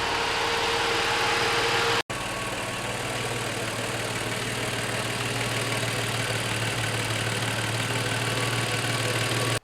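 An Audi 100/A6 C4 V6, warmed up after an intake manifold repair, idles evenly and steadily, a close, continuous low engine hum with a faint mechanical ticking, alone without voices, with one brief cut near two seconds.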